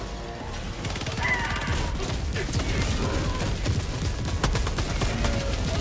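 Explosions and gunfire from the video game Helldivers 2: a dense, loud barrage of blasts, cracks and rapid shots running continuously with no break.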